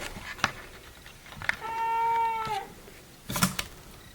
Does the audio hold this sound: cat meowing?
yes